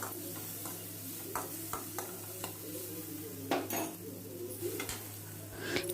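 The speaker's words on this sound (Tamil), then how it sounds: "இது நல்லா வதங்கட்டும்" Onions and vegetables sauté quietly in a pan for pasta sauce, a soft sizzle under occasional scraping and stirring clinks of a spatula against the metal, with a steady low hum beneath.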